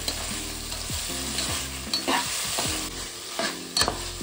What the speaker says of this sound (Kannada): ಪುದೀನ ಎಣ್ಣೆಗೆ ಹಾಕಿ ಚೆನ್ನಾಗಿ ಫ್ರೈ ಮಾಡೋದು